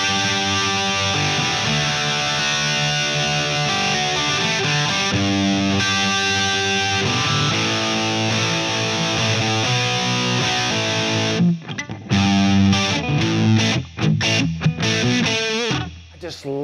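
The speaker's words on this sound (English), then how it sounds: "There's just some sort of a squonk that comes in with that middle position." An Epiphone 59 Les Paul electric guitar plays rhythm on the middle pickup position through effects, loud and continuous with distorted strummed chords, ending in choppier stabs and brief gaps.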